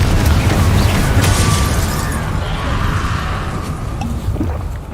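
A Confringo explosion spell in Hogwarts Legacy: a loud booming burst that rolls into a noisy, crackling rumble which slowly fades.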